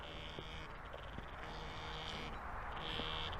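A metal detector sounding over a buried piece of lead in a field, giving a faint, steady high-pitched buzz that swells and fades in two or three pulses over constant outdoor background noise.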